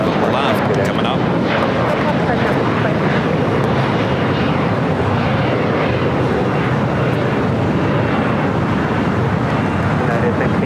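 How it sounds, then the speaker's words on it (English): A China Airlines Boeing 777 freighter arriving on runway 25 left at LAX produces a loud, steady jet roar that sustains throughout without distinct breaks, and voices are heard over it. "China Airlines cargo, the 777 freighter will be arriving here on the south side at 25 left, coming up."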